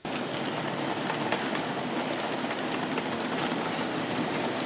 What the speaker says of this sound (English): So right now my train is 3 BC Rail locomotives, 17 cars, 2 BC Rail mid-train DPUs, 17 more cars, and a caboose